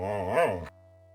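A single short, tonal bark from a dog in the video game Police Quest: Open Season, cut off abruptly and followed by quiet.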